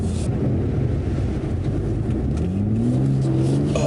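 A BMW G80 M3 Competition xDrive accelerates hard in four-wheel-drive sport mode with the stability controls off, its engine droning under heavy wind rush and the pitch rising steadily toward the end.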